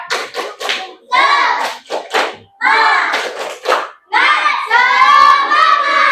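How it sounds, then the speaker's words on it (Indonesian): A class of schoolchildren claps out a rhythmic spirit cheer in short bursts of clapping and chanted voices, loud and close, with brief pauses between phrases. "Kita tepuk semangat dulu"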